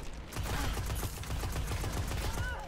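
Rapid bursts of gunfire from the video game Destiny rattle continuously for a few seconds, dense and loud, with no voices over them.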